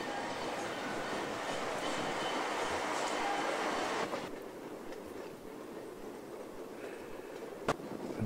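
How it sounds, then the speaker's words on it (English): Train crossing a trestle above the rapids of the Moisey River just after leaving a tunnel north of Sept-Îles, heard as a steady rumbling roar that drops slightly in loudness midway, with a brief sharp click near the end. "the train enters a tunnel. And when you come out, you're on a trestle above the rapids of the Moisey River"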